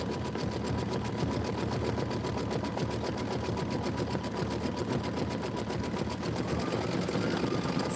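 An embroidery sewing machine runs a Kimberbell Home Sewn design, stitching with a fast, even mechanical chatter that holds steady and close throughout, with no speech over it.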